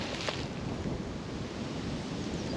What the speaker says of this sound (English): Wind's getting up now. It is starting to get a little bit gusty